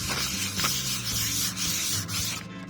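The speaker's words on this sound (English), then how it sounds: "1500 grit sandpaper," Wet sanding of fresh paint on a van body with 1500 grit sandpaper, a steady close rasping rub that runs on without pause, with a few faint knocks.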